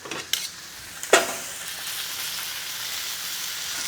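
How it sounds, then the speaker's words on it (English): Sous vide pork chops with honey and miso searing in a hot pan, a steady close sizzle after a few sharp clatters as the chops are turned, no voices. "I'm actually gonna turn these and I'm gonna get the really nice sear on the bottom"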